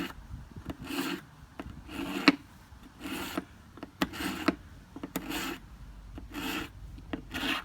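Repeated rasping scrapes of an aluminum ruler drawn through a knife sharpener, several strokes in an uneven rhythm with small clicks between them, close and fairly quiet.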